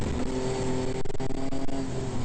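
BMW E30 race cars run through turn one at a Taupo circuit race, engines roaring loudly and continuously with rising revs and pulsing gear changes as the cars pass close by.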